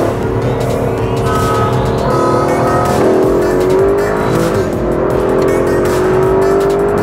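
An Aston Martin DB11 and a Mercedes-Benz S63 AMG Coupe accelerating hard from 80 km/h, loud sustained engine roar with rising pitch through gear changes and heavy wind and road noise, no talk.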